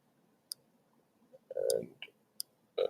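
Sharp computer mouse clicks on a software chart editor's update button, a few isolated taps spaced apart, close and crisp against a quiet background.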